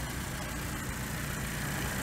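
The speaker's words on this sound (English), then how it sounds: "You notice the engine's still on idle. I've still left it idling." A car engine idles with the bonnet closed, giving a steady, low, continuous hum with no voices.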